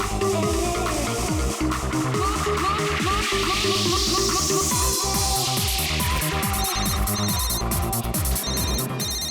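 A telephone rings continuously, its bright ringing steady and loud over layered music with no pauses.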